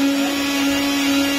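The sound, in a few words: mixer grinder grinding coriander and chillies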